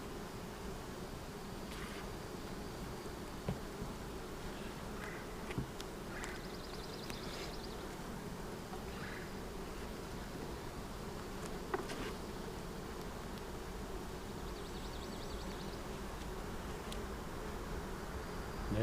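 Honey bees buzzing steadily around an open hive during an inspection while boxes are added, a constant droning hum at low level and unbroken throughout.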